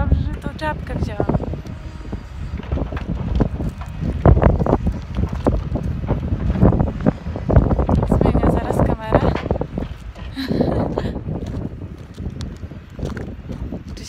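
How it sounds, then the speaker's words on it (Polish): Strong, gusty wind buffets the microphone in a Scottish forest where forestry machinery is working, with rumbling bursts under someone talking throughout. "I wieje bardzo dobrze, że tą czapkę wzięłam."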